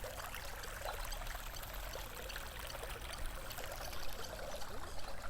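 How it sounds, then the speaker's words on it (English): Water from the Jordan River pours steadily in through a channel toward a lake in August, a continuous close rushing and trickling wash with no talking. "And here you see the water still pouring in."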